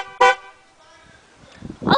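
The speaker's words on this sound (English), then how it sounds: "Honking your horn is a great way of communication." A single short car horn blast sounds loud and close, followed by a quieter stretch and another honk starting at the end.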